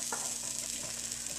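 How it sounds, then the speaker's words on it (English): Food sizzling in a hot pan during home cooking, a dense, crackling hiss that holds steady throughout, close up, with no talking. "ooh, do you hear that sizzle?"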